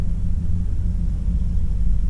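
2020 Toyota Tacoma pickup engine on throttle onto a straightaway, a deep, steady low rumble heard from inside the cab, loud and continuous for a couple of seconds.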